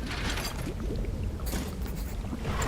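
Boat engine in the fishing video game Dredge, a steady low mechanical hum with faint creaks and watery churning, heard alone at moderate level.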